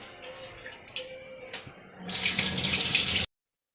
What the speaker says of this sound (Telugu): వాటర్ పోసేస్తాము